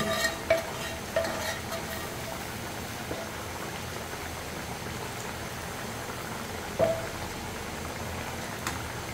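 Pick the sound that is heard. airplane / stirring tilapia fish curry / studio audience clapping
stirring tilapia fish curry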